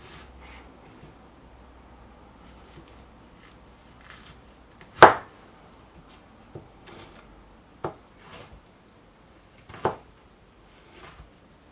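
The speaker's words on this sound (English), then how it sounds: "Just going to cut this in half." A knife cutting a green plantain in half on a board, a few sharp isolated chops spaced apart against a quiet background, the first one loudest.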